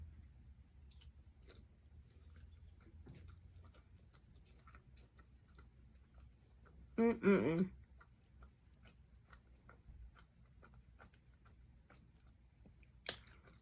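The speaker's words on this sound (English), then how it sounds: "I'm just going to eat a little bit there at roasted garlic and that smoked Gouda" Eating a ribeye steak dinner with roasted garlic smoked Gouda potatoes, with soft chewing and mouth sounds over a quiet room, a brief louder burst of bites midway and a sharp click near the end.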